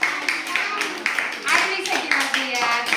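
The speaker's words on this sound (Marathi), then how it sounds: "टाळ्या वाजवा" Children at a primary school in Pategaon clap in scattered bursts while an adult keeps talking over them.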